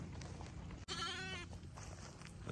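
A sheep on a farm gives a short, faint bleat, distant and quick over steady background noise.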